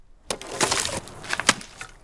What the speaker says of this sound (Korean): 힘껏 내리친 도끼질에 시원하게 두 동강이 난 장작